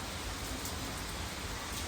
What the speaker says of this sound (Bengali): বৃষ্টির জলটা গায়ে পড়ছে